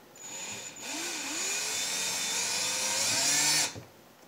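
A power drill drives a screw in a steady, close, loud whir lasting about three seconds, with its pitch shifting slightly as the screw bites and then cutting off.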